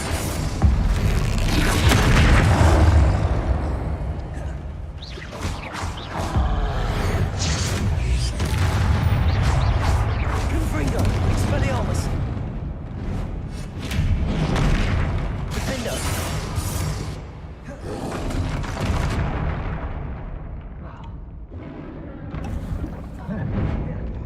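Spell blasts and booming impacts from Confringo and other combat spells in Hogwarts Legacy, repeated loud bursts over a dense game soundtrack, with a voice calling out spell names throughout.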